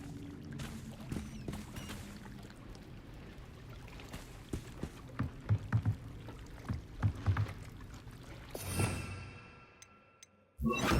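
Water laps and trickles softly through the stone Underground Harbour in Hogwarts Legacy, a steady gentle wash punctuated by small splashes and knocks, with a louder surge near the end before a sudden drop.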